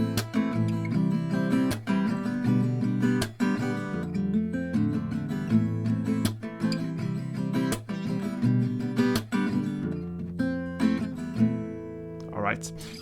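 An acoustic guitar plays the chords of a song with melody notes woven in, steady rhythmic strums ringing close and clear, ending on a rising slide.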